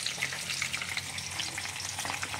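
Freshly caught river fish frying in a pan crackles and spits with a bright, busy sizzle, steady and close for a couple of seconds before cutting off, no voices.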